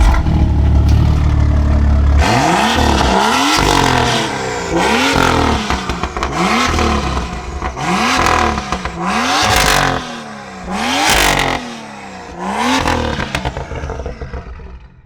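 BMW M2 CS engine revved repeatedly while stationary: a deep idle, then a series of sharp rising blips roughly every one to two seconds, loud and close, each falling back toward idle.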